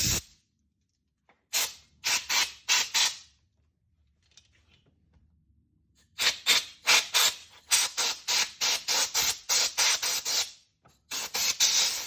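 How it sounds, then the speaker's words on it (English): An air compressor nozzle blows sawdust out of a Stihl MS 440 chainsaw in loud, close hissing bursts, three short blasts, a pause, then a long run of rapid repeated blasts. "So I'm going to go ahead and use the air compressor."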